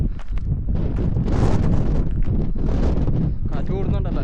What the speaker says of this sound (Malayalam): കാറ്റ് കൂടുന്നുണ്ടല്ലേ?